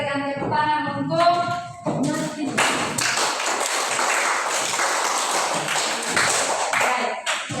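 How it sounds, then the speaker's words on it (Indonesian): Classroom applause from a group of students, a burst of dense clapping that swells after a spoken moment and carries on steadily for several seconds, close and lively, with a voice heard at the start. "Oke, kita berikan tepuk tangan untuk"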